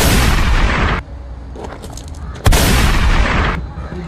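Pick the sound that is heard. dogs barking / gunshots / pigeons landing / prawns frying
gunshots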